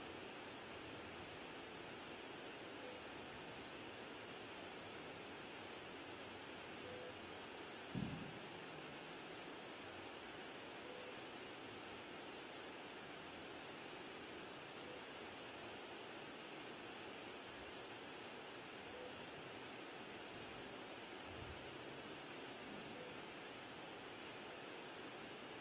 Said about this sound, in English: Turn off the white noise.